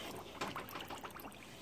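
A spoon stirs sugar into water to make a 2-to-1 sugar syrup, giving faint, soft swishing and light trickling with small scattered clicks, close and quiet throughout.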